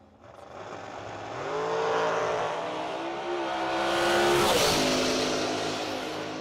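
A drag race car makes a solo bye run at the Mickey Thompson Million Dollar Drag Race, its engine roaring up loudly and staying strong before fading, heard from nearby without talk.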